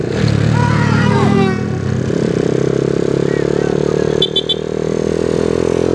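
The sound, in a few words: motorcycle engine running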